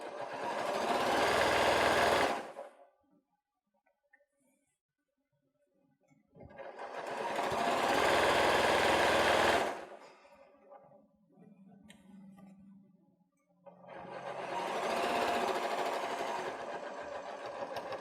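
Sewing machine stitching fabric for an autumn fabric bucket with pumpkin applique, running in three long loud bursts separated by quiet pauses with faint handling noises.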